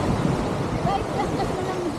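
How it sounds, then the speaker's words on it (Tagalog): Sea waves wash along the shore with a steady broadband surf hiss, mixed with wind buffeting the microphone and faint voices in the background. "Ang tubig dagat."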